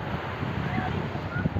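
Gentle sea waves wash onto the blackish sand of the Gangasagar beach, a steady rushing surf mixed with wind buffeting the microphone, with a voice talking over it.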